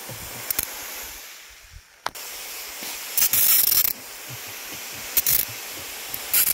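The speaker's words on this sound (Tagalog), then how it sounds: "sa pag-abono mag-spray na pod" Bursts of pressurized fertilizer spray hiss out in short repeated pulses over a steady background hum, loud and close, with brief pauses between each spray.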